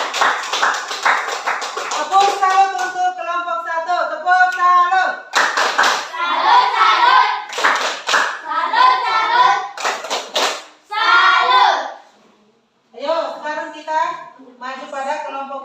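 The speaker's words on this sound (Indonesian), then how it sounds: "Tepuk tangan untuk kelompok satu." A classroom group claps in rhythmic patterned bursts to salute the first presenting group, with a leader's voice and children's voices chanting between and over the claps.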